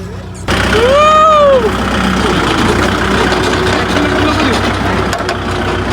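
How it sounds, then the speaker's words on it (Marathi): A farmhouse tractor's engine idles with a steady low rumble after a short rising whine at the start, running loud and close throughout. "आम्ही फायनली आता ट्रॅक्टर राईड करणार आहे"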